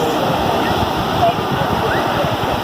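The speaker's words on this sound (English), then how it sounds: "There's the waves." Ocean waves washing onto Mesquamaket Beach, a continuous loud rushing surf close by with no break across the short stretch.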